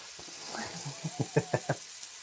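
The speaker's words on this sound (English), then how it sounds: "bacon in and onions, smelling delish" Bacon and onions sizzling in a pan, a soft steady hiss with a few brief thumps and a quick run of rhythmic knocks near the end.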